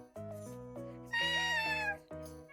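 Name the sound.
cat meowing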